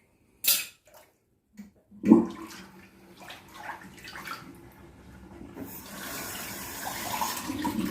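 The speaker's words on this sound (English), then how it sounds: "Bit of water running." Water runs from a bathroom tap, beginning after a few soft knocks and handling sounds and building into a steady, continuous gush that lasts to the end.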